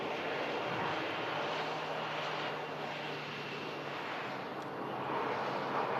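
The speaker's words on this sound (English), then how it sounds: "Aircraft, of course, arriving in from Amsterdam Schiphol." An airliner on a short flight in from Amsterdam Schiphol passes overhead, a broad, steady engine roar that holds at moderate distance for several seconds with a slight dip and swell, no talk over it.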